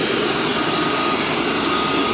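Jet airliner engines roar at Havana airport as a loud, dense, constant wash of broadband noise with a steady high whine, close by and uninterrupted, with no voices over it.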